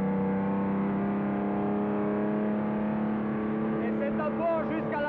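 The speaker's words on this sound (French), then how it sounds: "Maintenant, on passe en quatrième et on attaque la descente de Burnaville par un gauche à fond." A 1962 racing car at full throttle in fourth gear on the downhill Burnenville section of the Spa circuit, a steady loud engine drone with strong harmonics that holds throughout, with a voice talking over it.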